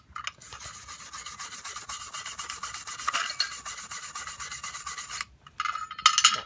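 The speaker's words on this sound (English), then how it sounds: "to just scrape the aluminum oxide just even more off, because the heat will expose that" Metal tool scraping aluminum oxide off heated aluminum during brazing, a steady close rasping rub that runs several seconds, pauses briefly, then resumes.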